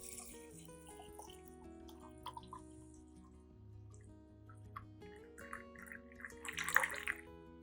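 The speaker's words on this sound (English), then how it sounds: "add about 500 milliliters of clean water." Clean water, about 500 milliliters, pours into a blender jar, a soft close trickle and splash that swells toward the end, with no talk.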